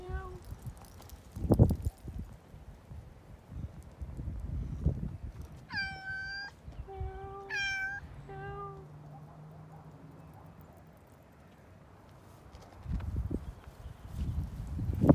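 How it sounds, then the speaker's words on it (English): A house cat meows several times in a quick run of clear, moderately loud calls in the middle, set among soft thumps and shuffling footsteps in a quiet room. "The cat wants our attention."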